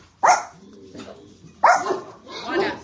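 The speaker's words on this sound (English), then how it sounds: "Dog." A dog barks twice, loud and close, each sharp bark followed by a softer muffled yelp, with a voice also present in the room.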